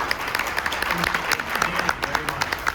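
Brief applause from a crowd thanking comic book panelists, scattered clapping under a voice that keeps talking.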